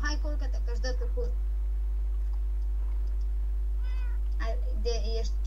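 A cat meows a few times in the video game Minecraft, short tonal cries in two bursts separated by a quiet stretch, over a steady low hum.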